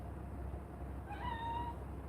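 A cat gives a single drawn-out meow, clear and fairly close, rising then holding before trailing off, with quiet room hum underneath and no talking.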